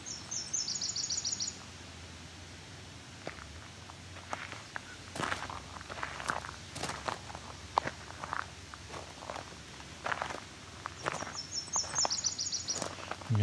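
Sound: warbler singing

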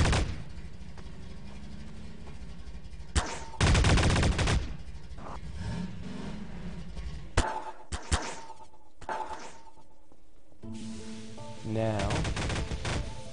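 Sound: turret firing in Garry's Mod video game

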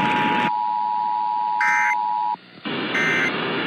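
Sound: emergency alert system alert tones

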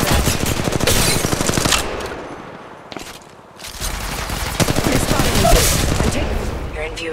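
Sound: gunfire while being shot at in Apex Legends Mobile video game

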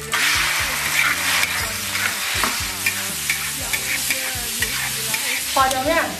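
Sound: meat slices stir-frying in oil

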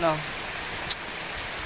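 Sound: heavy rain

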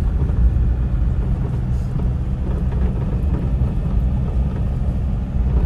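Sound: car driving on mountain road

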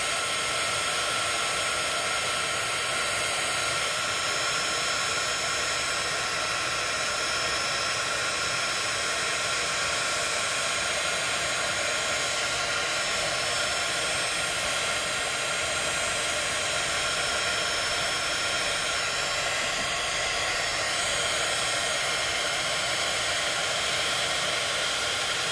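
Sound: heat tool heating embossing crystals

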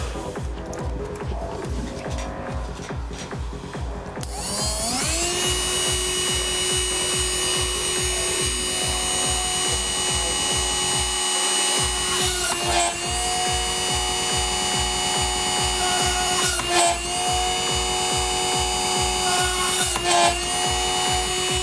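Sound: small drill drilling a PCB

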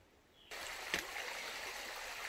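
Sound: gurgling creek

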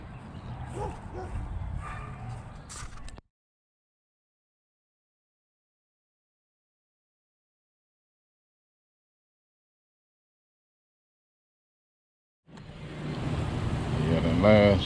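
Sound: neighbor's dogs barking

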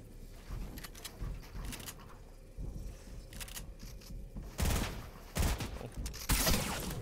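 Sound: gunfire in the video game Fortnite

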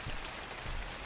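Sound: rain falling in video game Ark: Survival Evolved

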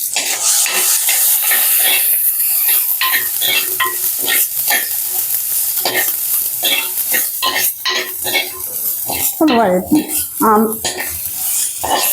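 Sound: sautéing masala in a pan

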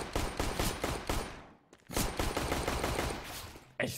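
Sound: Glock pistol gunfire in CS:GO video game

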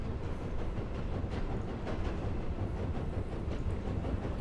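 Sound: train moving in a video game

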